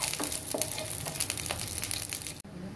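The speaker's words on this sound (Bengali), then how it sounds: "একটু ভাজা ভাজা করে নিই।" Cardamom and bay leaves fry in hot oil for a green spicy hariyali chicken, a close crackling sizzle with scattered pops and stirring scrapes, dropping away sharply near the end.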